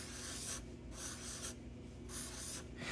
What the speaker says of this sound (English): So let's draw the picture here.